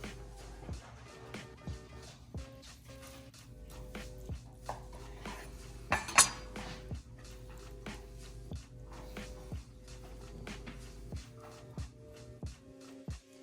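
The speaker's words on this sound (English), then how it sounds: "pull the meter probe out of this fillet, and now it's time to cut them" A knife cuts through bacon-wrapped filet mignon steaks on a board, giving a steady series of soft thuds and taps roughly every half second, close and moderately quiet over low background hum.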